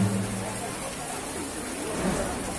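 Rain falls during an outdoor monthly manaqib religious gathering, a dense steady hiss of drops on surfaces with a faint murmur of voices underneath.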